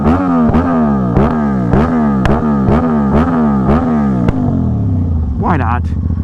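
Middleweight sportbike engine heard close while riding, rising and falling in repeated rev sweeps punctuated by regular shift clicks, then settling into a lower drone near the end.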